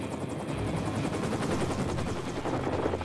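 An M134 Gatling gun fires continuously, a dense, unbroken buzzing roar of rapid shots with no pauses, loud throughout.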